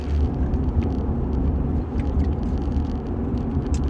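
From inside, a car drives along a road, making a steady, loud low rumble and whir of engine and tyres that goes on without a break.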